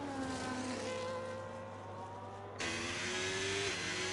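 Engine note of a Ferrari race car lapping Imola in a sim racing game, a steady high revving drone with rising gear sweeps and a sharp upshift jump partway through, heard alone.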